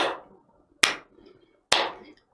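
Three sharp, close hand claps, evenly spaced about a second apart, counting out a half-note rhythm in a beginner violin lesson, each ringing briefly alone before silence.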